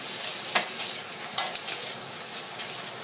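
Crispy fried shrimp being reheated and stirred in a pan for pad thai: a string of scraping stir strokes over a light sizzle, close and clear, with no talking.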